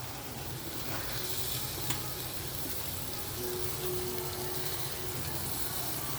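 Amaranth leaves dropped into a pan of softened tomatoes over medium heat sizzle steadily, a close, continuous frying hiss with faint stirring scrapes and no voices.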